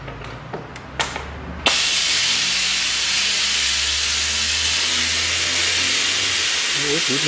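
Steady, loud hissing suction as oil is drawn out of a Toyota Corolla 1.6 engine through a tube, starting abruptly after a few faint knocks and continuing unbroken at close range.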